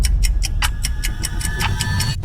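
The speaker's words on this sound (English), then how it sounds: "I opted to use a clock sound effect that speeds up its ticking sound" A clock sound effect ticks in sharp, evenly spaced clicks that come steadily faster, over a low rumbling background.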